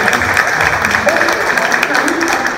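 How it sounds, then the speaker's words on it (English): Audience applause at a venture pitch competition, continuous clapping from a crowd with voices mixed in throughout this short stretch. "Can we give him another round of applause?"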